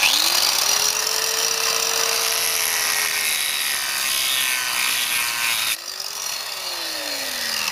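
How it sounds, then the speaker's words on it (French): A high, harsh grinding whine runs continuously as an angle grinder cuts into stone, briefly dipping in pitch near the end before resuming. "un petit coup de meuleuse, de disqueuse comme ça"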